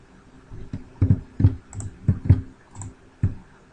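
A handful of soft, irregular clicks and taps close at hand, like a computer mouse and keys being pressed in a quiet room, with no voice over them.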